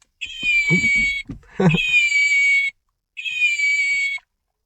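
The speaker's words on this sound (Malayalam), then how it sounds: "ഡെക്കറേറ്റീവായിട്ടൊരു പൂച്ചോട്ടുണ്ട് നമുക്കൊരാൾ ഗിഫ്റ്റ് തന്നിട്ടത് സൗണ്ടൊക്കെ കേൾക്കും" A decorative toy cat sitting in a Maruti Zen car gives out electronic meows, a run of three long, bright, synthetic cries separated by short gaps, with a brief voice mixed in near the start.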